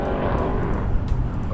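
A Tamiya MF-01x RC car with a Beetle body runs at full speed on 2S LiPo batteries, giving a loud continuous whine and buzz close by. The pitch shifts slightly over a short stretch and no one speaks.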